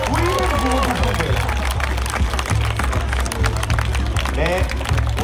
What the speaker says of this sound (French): On peut l'applaudir maintenant.